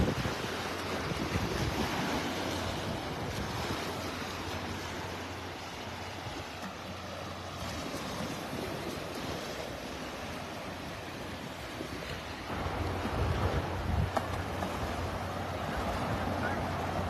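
Surf and steady wind on Vanderbilt Beach in North Naples, Florida, a continuous broad wash of waves and gusting breeze buffeting the microphone, swelling slightly louder near the end.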